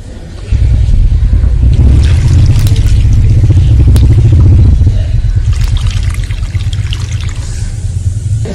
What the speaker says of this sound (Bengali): এবারে আমি ভালোভাবে জল দিয়ে দেবো।